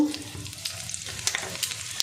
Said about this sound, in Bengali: এবার একটু গোটা জিরে ফোড়নে দেব